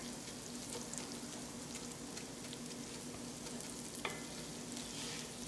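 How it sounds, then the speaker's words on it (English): Shrimp risotto rice is stirred in an oiled pan over heat: a continuous, even hiss and scrape with a soft clink partway through, and no voices. "I'm just going to keep stirring this, and I'll let the heat do its thing."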